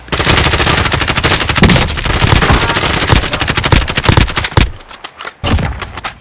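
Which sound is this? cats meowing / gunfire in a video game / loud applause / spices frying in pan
gunfire in a video game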